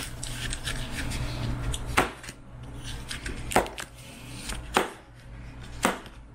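A pocket knife slices through a yellow watermelon, giving a series of irregular knife strikes, with four sharper cuts standing out over soft rubbing and cutting noise, close and fairly quiet.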